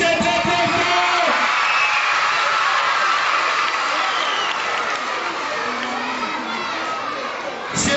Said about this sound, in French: applaudissez très très fort!